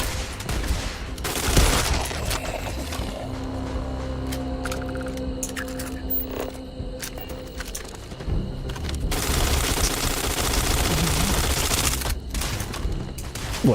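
Rapid automatic gunfire and bursts of shots ring out in the space game Starfield, dense and loud with brief pauses, mixed with booming impacts and game effects.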